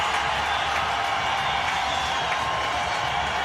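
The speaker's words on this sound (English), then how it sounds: "Acknowledging the crowd." Cricket crowd applauding and cheering Brian Lara's record 400 runs, a steady dense roar of clapping and voices filling the ground throughout, loud and continuous without pauses.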